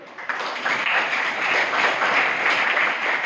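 Schoolchildren in a classroom clap together in a dense, steady burst of applause lasting a few seconds; the sound is fairly close and fills the room, with no talking over it.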